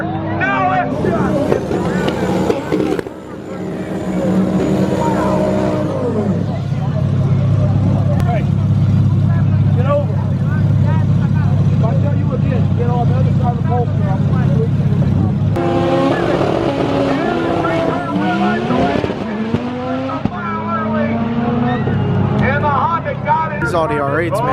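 Race cars, including Audi R8s, speed down the track at a drag-racing event. Loud engine roars and passing whooshes sound close by, with voices and crowd chatter mixed in.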